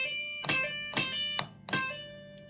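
An electric guitar played with hammer-ons: a few plucked notes each followed by a quick fretted second note, ringing softly and sustaining between attacks, close and alone without talk.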